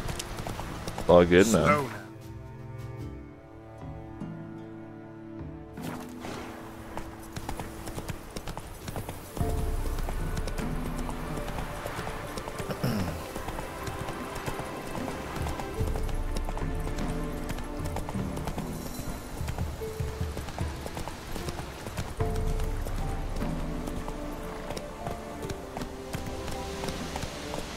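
Roach the horse from The Witcher 3 trots and gallops with steady clip-clopping hooves under game music, while someone talks over it throughout.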